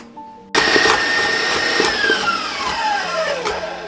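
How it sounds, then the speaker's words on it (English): Blender whipping key lime pie filling to a creamy consistency, switching on abruptly and roaring loudly and close, its motor pitch gradually dropping as the mixture thickens. "blend it all together until it's a nice creamy consistency"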